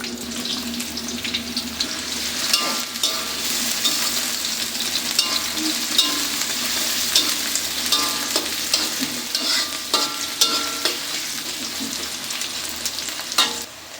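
Chopped onion, garlic and dried kechki fish fry in hot oil in a wok, sizzling steadily while a spatula scrapes and stirs in irregular clinks, close and fairly loud, with no talking.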